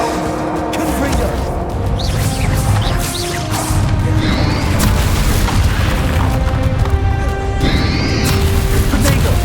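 In a Hogwarts Legacy battle on Xbox Series X, the Confringo explosive spell sets off repeated heavy booms and crashes over a dense wash of combat noise, with voices partly audible beneath.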